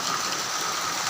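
Rain falls as a dense, steady hiss outdoors near a tractor during wheat threshing, continuous and even for a short moment.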